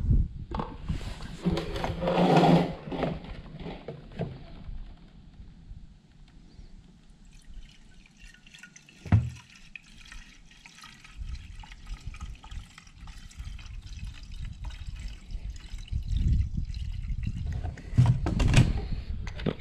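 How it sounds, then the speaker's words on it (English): Unleaded petrol is poured into the fuel tank of a Makita 4-stroke leaf blower, trickling and dribbling in uneven bursts, with quiet handling clunks between pours. "See how much fuel I can spill."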